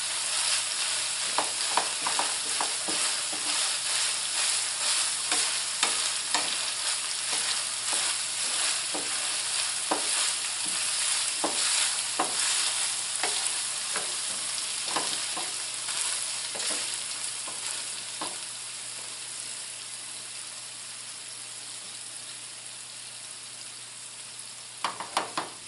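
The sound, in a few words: ground beef frying and sizzling in pan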